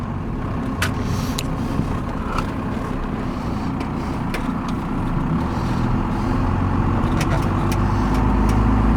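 A 1992 Dodge 2500 4x4 pickup engine runs steadily as the truck pulls out, a close, continuous low rumble with a few light clicks and knocks over it.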